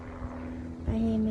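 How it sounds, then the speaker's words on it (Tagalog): A fixed-wing airplane flies overhead during an outdoor walk in fresh air, its steady propeller-like drone holding a single sustained tone that grows louder toward the end, with faint background noise throughout. "Ayan, may airplane."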